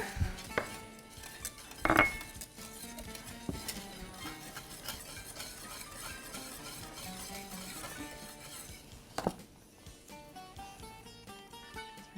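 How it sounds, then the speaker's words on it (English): A spoon clinks and scrapes against a pot of pastitsio sauce for a Greek lasagna, with sparse metallic taps and a couple of sharper knocks over quiet kitchen background. "Keep stirring because you don't want this to burn and you don't want to skin"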